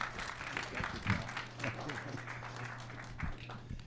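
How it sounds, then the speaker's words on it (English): Audience applause for Paul Johnson, the MC at a value investing stock pitch challenge; moderate crowd clapping with a steady hum underneath and voices mingled in, fairly short and uneven. "please give a round of applause for Paul Johnson"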